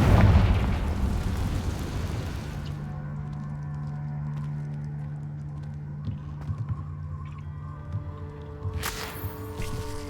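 A fiery blast spell bursts in a wizarding action video game: a loud explosive boom at the start decays into a humming tonal rumble, with a sharp crackling burst near the end.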